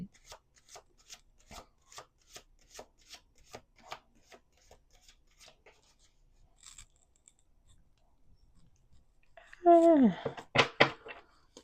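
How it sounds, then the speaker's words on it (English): Tarot cards are shuffled by hand in a run of crisp, rhythmic riffles and slaps, close and fairly quiet, followed by a brief burst of speech at the end. "Let's do 2 more shuffles."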